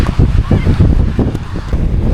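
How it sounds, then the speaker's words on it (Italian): Strong wind gusts across a small beach, producing a steady roar and low, buffeting rumble against the microphone, with no talking. "Guarda là come tira vento, guarda la bandiera."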